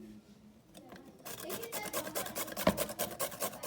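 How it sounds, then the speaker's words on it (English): Carrots being grated by hand on a kitchen grater make a quiet, rhythmic rasping scrape of quick repeated strokes, close and soft, starting faintly and growing steadier. "This is what we got from grating the carrots."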